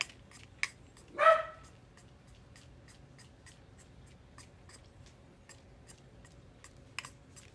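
A small dog gives a single sharp bark near the start, loud and close against a quiet room with faint scattered ticking and tapping from painting work.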